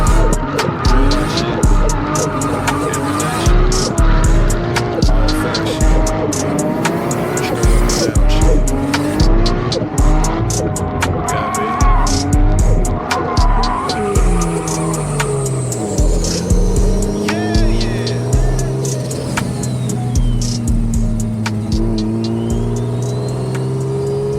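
A car drifts with long, loud tire squeals that rise and fall over and over against hard engine revving. A rap track and a voice run underneath.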